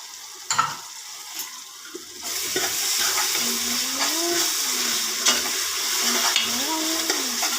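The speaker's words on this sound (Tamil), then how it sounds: "அடுத்ததாக இஞ்சி பூண்டு பேஸ்ட் போட்டுக்கிறேன்" Ginger garlic paste frying in a pan of oil for a mutton gravy, a steady broadband sizzle that swells after a couple of seconds, with scraping stirs and a faint tonal squeak drifting through.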